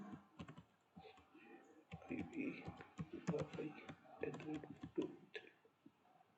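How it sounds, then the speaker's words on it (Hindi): A password is typed on a computer keyboard, rapid irregular key clicks in short bursts, close and clear, with a voice talking over the typing. "यहाँ पर पासवर्ड टाइप कर लेते हैं"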